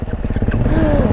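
A Suzuki quad fitted with a DRZ motor running at a busy lot, a loud close engine putter with a rapid regular beat that rises slightly in pitch.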